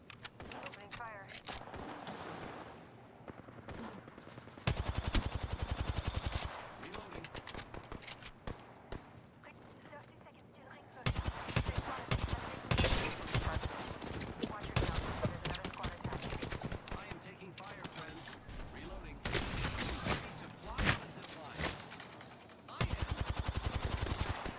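Video game gunfire comes in several bursts of rapid automatic shots separated by quieter stretches, loud and close, with voices talking underneath.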